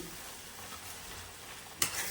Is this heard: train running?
no